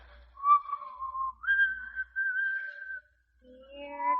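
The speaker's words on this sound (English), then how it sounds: "Why, Red Lantern, it's the wedding march." Someone whistles the wedding march alone, a slow, stately melody with each clear note held before stepping to the next.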